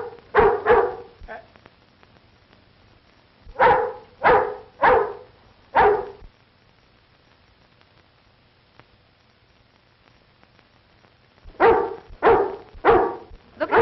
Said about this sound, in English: here's a watchdog